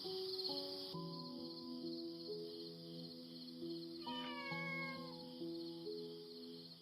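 A cat meows in several drawn-out, tonal calls, one rising and then falling, clear and fairly close against a quiet hum of crickets and other insects.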